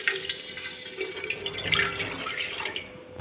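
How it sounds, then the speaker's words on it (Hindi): Water is poured into a pot of rice for dal chawal, three glasses of water to one and a half of rice, giving a brief splashing, trickling pour close to the mic with no talk. "और अब मैं इसमें चावलों के लिए पानी ऐड कर दूँगी।"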